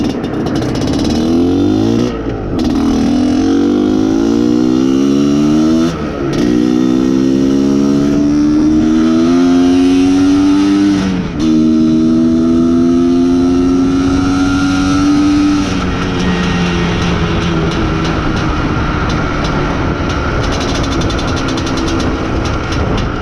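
An IZh Planeta Sport motorcycle being ridden on a road near a new bridge, its two-stroke engine loud and close throughout, revving up through repeated rising pulls with brief drops between shifts, then settling into a steadier drone.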